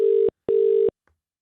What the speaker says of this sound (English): No, phone him again. Phone him again.